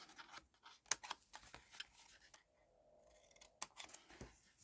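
Scissors snip through paper in quick, irregular cuts, close by, with small rustles between the snips and no voices.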